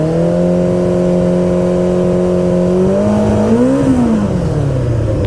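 A 1985 Kawasaki GPZ 900 R engine revs loud and close, holding a steady high-RPM tone before climbing briefly and then falling away as the throttle closes.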